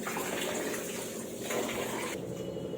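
Water mixed with turmeric and salt for washing button mushrooms, a steady close rush of running, splashing water with a slight change in flow midway and no talk.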